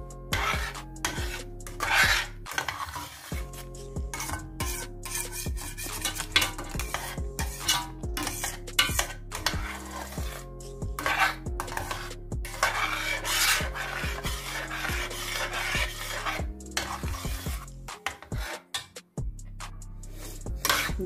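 A spoon rasps and scrapes through a thick milk barfi mixture in a pan, with repeated rhythmic stirring strokes and a soft sizzle under a bed of background music.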